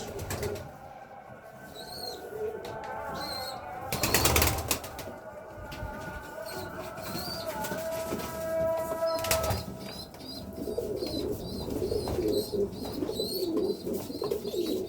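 A parent bird feeds its chick up close, with soft cooing and chirps, two sharp bursts of flapping wings and a busy background of other birds.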